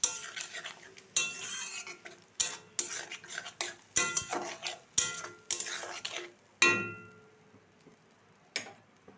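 Jackfruit, potato and prawn masala stir-fried in a pan: repeated sharp scrapes and knocks of a spatula against the pan, about a dozen strokes at irregular intervals over a quiet background, close and fairly soft.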